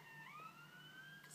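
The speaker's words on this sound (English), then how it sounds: "siren" A siren sweeps past outside, faint and distant, its rising tone heard briefly and alone with no talk.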